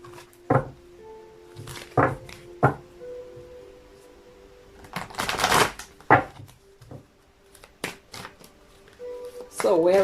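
Sacred Spirit reading cards are shuffled in several brief riffling bursts, one longer riffle in the middle, with someone speaking softly between them.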